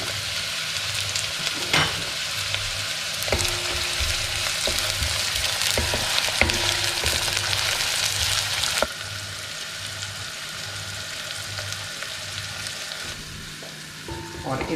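Onion fries in a pan for a rajma dish, giving a steady, close crackling sizzle that runs throughout, with occasional clinks and stirring scrapes and a brief drop in intensity partway through.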